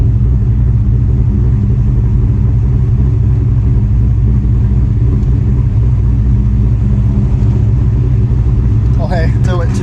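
A Ford Mustang engine fitted with aftermarket cams runs loud and close, a thick, choppy low rumble holding steady for nearly ten seconds, with a brief sharper burst of higher-pitched noise near the end.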